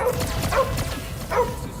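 Cosmo the dog barking in the Guardians of the Galaxy video game, two quick barks over a dense, loud game soundscape.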